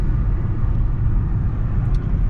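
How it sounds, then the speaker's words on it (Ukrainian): A car engine idles steadily just after starting, a continuous low rumble filling the short stretch with no talk. "Завів автівку"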